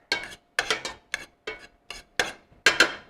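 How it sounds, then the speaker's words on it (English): Ground turkey is broken up in a pot with a utensil, giving seven distinct scraping, clinking strokes at a steady rhythm, close and fairly crisp, with quiet gaps between them. "very definitely just breaking that meat up a little bit more"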